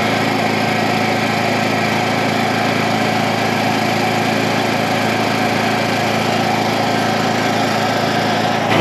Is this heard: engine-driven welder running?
yes